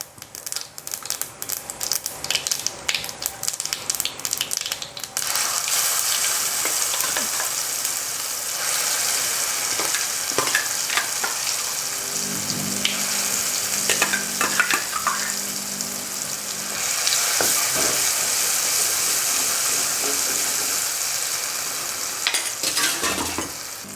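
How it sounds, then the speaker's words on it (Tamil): Loud, dense sizzling and crackling of mustard seeds spluttering in hot oil for onion chutney, steady for most of the stretch with occasional clinks of a utensil. "நல்லா கடுகு புரியுது"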